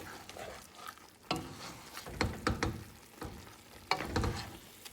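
Bone-in meat with spices fries in a pan and is stirred, giving a soft sizzle broken by repeated scraping, clattering strokes of a utensil, fairly faint and close, with no speech.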